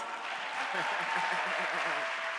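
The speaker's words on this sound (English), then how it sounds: "Let's give these 2 ladies a big round of applause." An audience applauding at a leadership talk, a steady wash of clapping heard at moderate distance, with a voice speaking over it.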